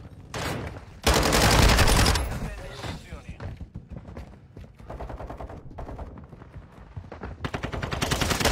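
Rapid bursts of automatic gunfire and explosive blasts in a first-person shooter game with RPGs, loud and dense at first, then thinning into scattered shots while someone talks over it.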